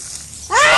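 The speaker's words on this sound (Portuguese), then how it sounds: "Passou uma mão de mangueira e comecei a esguichar, né? Água." Water from a garden hose bursts on loudly with a sudden spraying hiss after a quiet stretch, then holds steady until the end.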